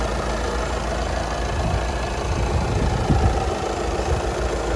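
The engine of an 11-plate Volkswagen Passat idling close by, a loud, even rumble with a faint knocking texture that holds steady throughout, no talk over it.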